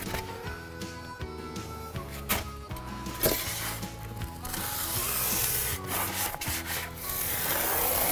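A blade cuts through foam underlayment during a flooring installation, giving a rough, continuous rubbing and scraping with short bursts and pauses, close and fairly loud, with no talking.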